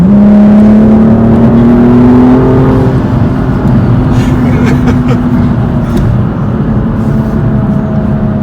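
A BMW M235i xDrive accelerates hard up to 70, its engine note climbing steadily and loud from inside the car, with road and wind noise building beneath it.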